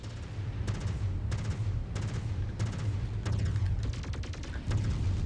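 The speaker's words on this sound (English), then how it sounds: "Incoming missile." Missile explosions and weapon fire in the MechWarrior 5 video game, a series of sharp booming impacts at irregular intervals over a rumbling background.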